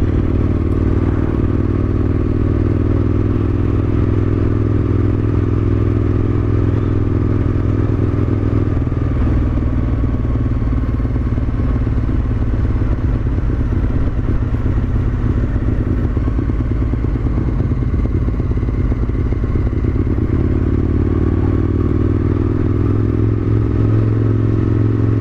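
An Aprilia RSV Mille Haga motorcycle being ridden gives a continuous, loud engine drone with wind rush, its pitch shifting slightly partway through, steady for about twenty-five seconds with no voices.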